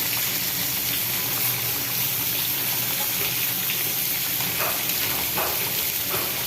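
Cumin seeds sizzling in a frying pan, a continuous close hiss like light rain that holds steady throughout.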